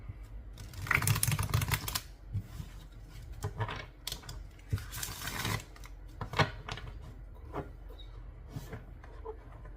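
A deck of tarot cards is shuffled up close in several bursts of quick riffling and soft clattering, separated by short pauses and light handling sounds.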